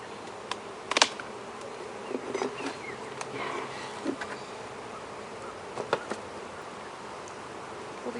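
Honeybees buzz while hive frames full of honey and nectar are pulled and inspected. A steady swarm hum continues throughout, broken by scattered clicks and knocks from handling the frames.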